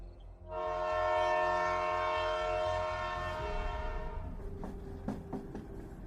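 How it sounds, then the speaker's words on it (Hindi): A train moves along the tracks, opening with a long, loud, sustained horn blast that fades into a rolling rumble with intermittent metallic clanks of the wheels and cars. "वहीं अविनाश की ट्रेन तेजी से आगे बढ़ते हुए हिमाचल की ओर जा रही थी"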